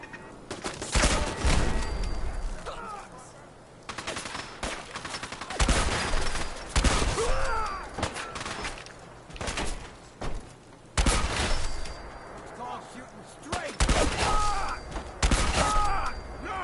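A modded gun fires in Fallout 4 against raiders, giving repeated loud bursts of gunshots separated by brief pauses, with some faint background game sounds between volleys.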